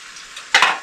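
A low, faint background hiss gives way to a sudden loud sizzle as curry sauce is poured over hot vegetables in a pan, with a second burst of spattering near the end.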